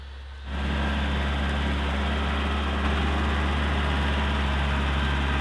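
A tractor engine running steadily on a rural property, a loud, close, low rumbling drone that starts abruptly after a brief quieter moment and holds without change.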